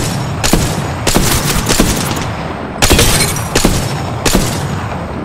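Heavy, booming sniper rifle shots from the Kraber in the Apex Legends video game, with a handful of loud blasts spaced irregularly across dense gunfire and battle noise.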